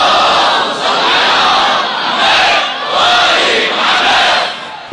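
A large crowd at a Shia religious gathering chants salawat prayers loudly in unison, swelling in several rhythmic waves of massed voices that fill the space without a break.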